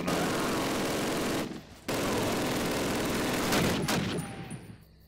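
A BAR rifle lays down suppressing fire in Call of Duty, loud sustained automatic bursts that break off once briefly and then carry on before fading, with no talking over them.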